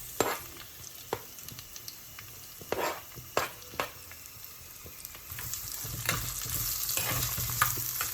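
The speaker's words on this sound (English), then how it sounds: "And then saute. Keep sauteing it nicely." Onions sauteing in a pan for a Kerala-style avoli (halwa) fish curry: scraping spatula strokes and a bright sizzle, with several sharp stirring clatters early on, then a denser, steadier frying hiss.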